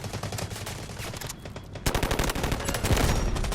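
Dense automatic fire rattles through a Delta Force Mobile match, a continuous stream of close shots that pauses briefly then resumes louder with layered bursts, no voices present.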